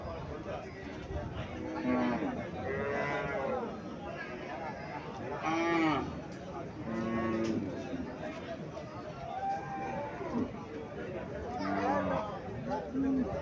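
Friesian dairy cows at a busy cattle market in Comilla, Bangladesh, lowing now and then, with several moos rising over constant crowd chatter and bargaining voices throughout.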